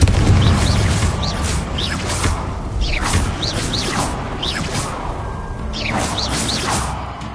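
Spell effects from Hogwarts Legacy: repeated Confringo fire blasts and Glacius ice spells, a dense stream of booms, whooshes and crackling bursts with sparkling high swishes recurring every second or so, loud and continuous game combat.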